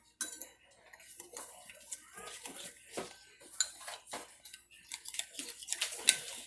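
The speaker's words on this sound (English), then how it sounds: "we'll go ahead and mix this all together" Sauce ingredients for a whole chicken being mixed in a bowl make a series of close, irregular scraping clinks of a utensil against the dish, repeating unevenly and alone.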